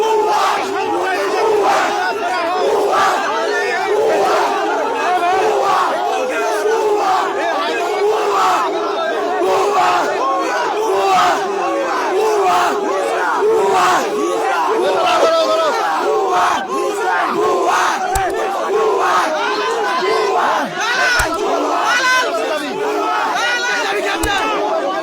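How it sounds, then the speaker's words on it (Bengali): A large crowd chants the slogan 'bhuya bhuya', meaning 'fake, fake', in loud, rhythmic unison that carries on throughout. Scattered shouts rise above the massed voices. "দেখে ভুয়া ভুয়া স্লোগান দিচ্ছে"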